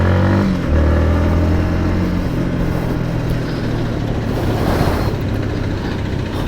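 A Yamaha MT-15 V2 motorcycle (2023 model) rides along a road, its engine note loud and close, with a steady drone and audible accelerating revs rising and holding throughout.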